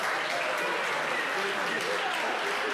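Sustained applause from the audience at a city council regular meeting. It is a dense, steady wash of many hands clapping together at an even level for the whole stretch, with no clear break.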